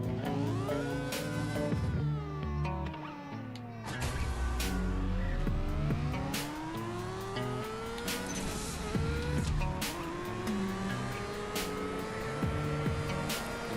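Racing truck engine from the Indy Truck in the mobile drag-racing game CSR2, loud and continuous with repeated rising revs and gear-shift drops, plus brief tire-squeal bursts, no talking.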